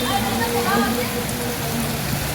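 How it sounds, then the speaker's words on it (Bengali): Heavy rain pours down in Dhaka, a loud, continuous, even hiss of water falling on surfaces close by. A faint voice is heard in the background. "দেখেন কীভাবে বৃষ্টি নামতেছে, আকাশের অবস্থা কী পরিমাণ খারাপ, ঝুম বৃষ্টি।"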